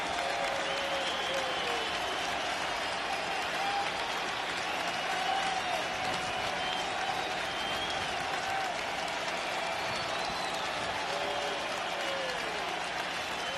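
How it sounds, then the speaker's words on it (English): Baseball stadium crowd of tens of thousands at an Astros versus White Sox playoff game, cheering and clapping in a loud, sustained roar that never lets up, with no talking over it. "You gotta love that crowd trying to get their team out of this big jam right here"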